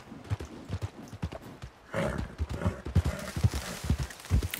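Horse hooves clip-clop at a steady walking rhythm in the video game Red Dead Redemption 2, close and fairly loud. Soft background game sound runs underneath.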